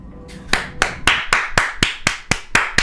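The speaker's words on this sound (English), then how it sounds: "Can we get a round of applause, chat, for another brilliant installment of Aamon Animations' incredible skill" Slow, evenly spaced hand claps, about ten sharp, close claps in a steady rhythm with nothing else behind them, offered as a round of applause for an animation.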